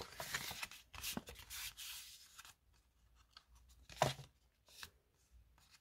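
Paper is folded and creased by hand to make a gift card pouch. Crisp rustles and sharp creasing swipes come up close, in a few separate bursts with quiet gaps between them.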